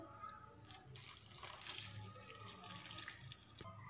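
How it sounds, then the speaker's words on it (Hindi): Water pours into a kadhai of water chestnut flour in a home kitchen, a continuous splashing trickle with brief surges, fairly faint and close by, with no talk over it. "अब हम इसमें पानी डालेंगे।"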